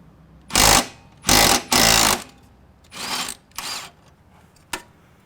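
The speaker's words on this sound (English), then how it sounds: "I'm going to take my impact drill, get it on here, and we'll see how it goes" An impact drill loosening a lawnmower blade nut fires in several loud bursts of rattling hammering, three strong ones then two weaker, with a brief final tap.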